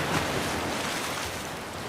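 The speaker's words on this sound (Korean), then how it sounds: "또 한 번 산더미 같은 파도가 덮쳤다." Steady, broadband roar of heavy sea waves and wind in a storm, continuous and dense without distinct breaks, unaccompanied by any voice.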